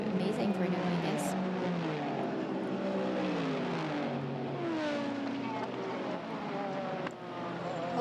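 Nissan GT-R race cars battling in a Super GT race in Thailand, engines howling and shifting pitch as they pass, heard under continuous commentary.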